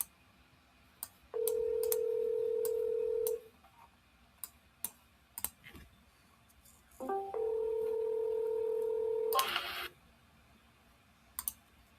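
Telephone call tones: a steady dial tone, scattered clicks, then a two-pitch ringing tone followed by a burst of noise, heard close over a quiet line with no talking.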